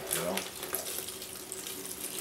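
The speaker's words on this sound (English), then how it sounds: "Time to start pouring it into the carboy." Dark homebrew porter wort pours and splashes steadily into a carboy, a continuous trickling rush at moderate loudness with some faint background sound.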